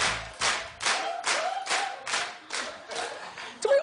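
A studio audience claps together in rapid unison, about eight loud bursts spaced roughly half a second apart, steady and close, with no talking over it.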